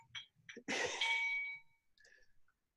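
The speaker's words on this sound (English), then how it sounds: "I'm going to ding the bell." A single bell dinged once, a bright ringing strike that rings out and decays over about a second, preceded by faint soft sounds and followed by a quieter trailing tone.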